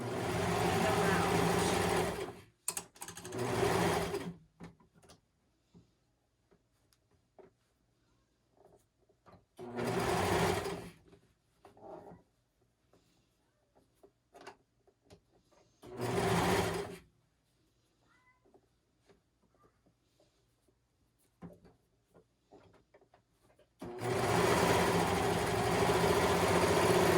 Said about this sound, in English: I'm just gonna sew